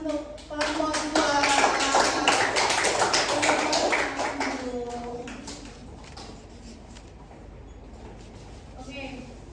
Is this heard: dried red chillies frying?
no